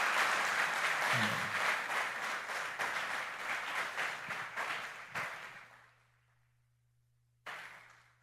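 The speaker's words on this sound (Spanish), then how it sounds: "Dale ese fuerte aplauso al Señor." A church congregation applauds loudly, a thick burst of clapping that thins and fades out after about five seconds, followed by a short renewed patter near the end.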